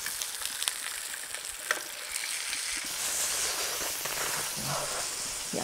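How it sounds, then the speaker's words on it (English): A chicken and beef burger patty fries in a hot pan with a steady crackling sizzle, briefly louder as it is turned over, with no talking. "I'm going to turn our patty to the other side."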